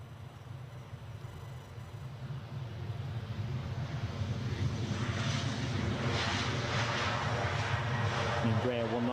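A KLM wet-lease Embraer 190 airliner at Edinburgh Airport rumbles as a steady jet roar that grows gradually louder, with someone talking over it.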